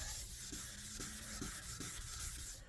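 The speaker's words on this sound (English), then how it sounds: "the sandpaper is scratching the clear coat off of the headlight" Sandpaper scrubs the clear coat off a headlight on a Jaguar XK (X150) in about five steady back-and-forth strokes, producing a close, gritty rasping.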